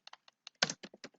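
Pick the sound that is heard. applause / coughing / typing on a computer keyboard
typing on a computer keyboard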